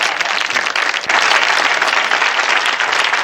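A studio audience claps steadily at a Bill Boggs career show, a dense, sustained wash of applause that swells slightly after the first second and holds loud to the end.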